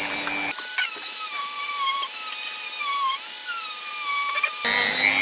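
Rotary tool polishing guitar frets, a high sustained whine that starts abruptly, holds steady with slight pitch wavering under light load, then cuts off after about four seconds.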